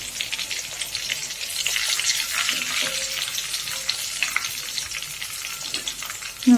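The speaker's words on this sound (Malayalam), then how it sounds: "വറുത്തെടുക്കുക." Beef cutlets fry in hot oil with a dense, steady sizzle and crackle, close and continuous, with a few faint clinks of utensils and no voices.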